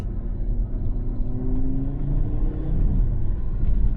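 Audi RS3 from 2012 with its five-cylinder engine, heard from inside while driving on an open road: a steady low rumble with a faint rising pitch in the middle, no talking.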